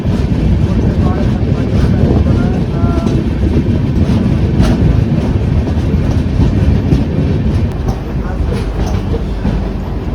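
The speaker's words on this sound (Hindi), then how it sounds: "गाड़ी हमारी आ गई प्रयागराज जंक्शन पर, और ये प्लेटफॉर्म नंबर 5।" A train rumbles loudly and steadily as it rolls into platform 5 at Prayagraj Junction, wheels clattering over the tracks, with voices murmuring faintly underneath.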